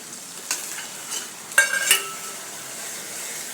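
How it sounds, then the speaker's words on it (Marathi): Spices such as chili powder, turmeric, garam masala and misal masala sizzle in hot oil while being stirred for a sprouted matki rassa, with a few soft spoon scrapes against the pan over a steady low fry. "मसाला परतते गेला आहे तेलात आता त्यामध्ये आपण हे मसाले टाकूया"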